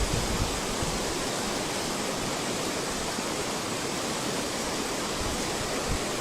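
A river rushes right beside a house whose foundation it has eroded, making a loud, steady, unbroken roar of flowing water with no voices.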